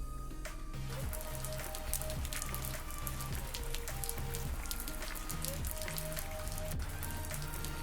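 Rain falls steadily in a dense, soft patter, heard faintly and continuously with no voices over it.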